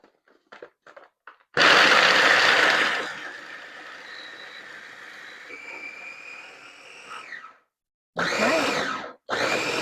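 Hazelnuts are ground into hazelnut butter in a blender or food processor, giving a loud, dense whirring grind that runs about six seconds with a rising whine, stops, then starts again in short bursts after brief clicks.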